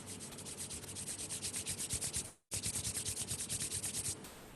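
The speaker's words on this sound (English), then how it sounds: "Rub your palms." Palms rubbed briskly together in a yoga session, a close, steady back-and-forth rasping with many quick strokes, a brief pause midway, then more rubbing, with no talk.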